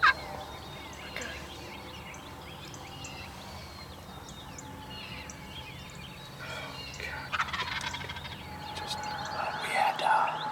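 Eastern wild turkey gobbler gobbling in a farm field, repeated rattling gobbles at moderate distance, with birds chirping and faint whispering nearby.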